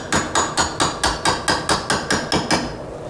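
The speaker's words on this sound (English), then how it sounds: "Use a punch to punch 2 holes." A hammer strikes a punch driving holes through aluminum held in a vise, ten sharp metallic blows at an even brisk rhythm, loud and close with no talk.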